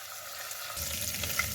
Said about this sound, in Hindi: 3 टेबलस्पून ऑयल डाला, 1 टेबलस्पून लहसुन अदरक का पेस्ट डाला। 30 सेकेंड्स के लिए इसको भून लेंगे।